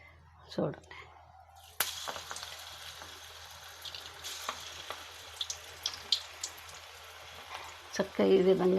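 Pakoda batter dropped into hot oil, a sudden burst of frying and crackling close by that keeps bubbling and popping, with someone speaking over it.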